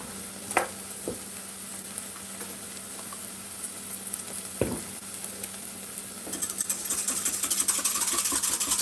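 Beef stock being stirred in a pot, a soft continuous scraping and swishing close by with a couple of sharp clinks, the bubbling and sizzle growing louder near the end.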